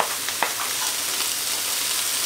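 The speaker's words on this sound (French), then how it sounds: "je vais mélanger du coup là dans mes pommes de terre" Potatoes frying in a pan, stirred with a steady loud sizzle and a few soft scraping strokes, with no talk.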